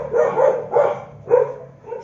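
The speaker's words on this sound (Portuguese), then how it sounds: "Só um minutinho que meus dogs estão latindo." Dogs bark near a home on a usually quiet street, giving three or four loud, closely spaced barks with short pauses between them.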